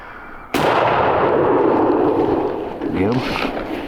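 A single loud shotgun blast at a turkey during a spring hunt in hardwood forest booms close by and then rolls away in a long echoing decay through the woods.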